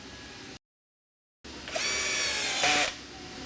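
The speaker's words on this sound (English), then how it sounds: "And now you can reinstall your screws." Power drill driving screws back into the rail of a SleepSafe bed, a short close whir of about a second after a moment of silence, rising slightly near the end.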